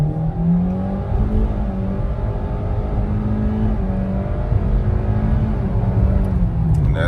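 A car accelerating hard in sport mode, its engine note rising in several stepped surges like gear changes, loud and steady from inside the cabin, with no talking.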